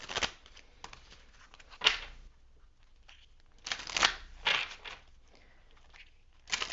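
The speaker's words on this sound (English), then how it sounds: "I'm just going to shuffle a little bit more" Tarot cards are shuffled in quick riffling bursts with papery flutters and soft taps, fairly close and quiet, with pauses between shuffles.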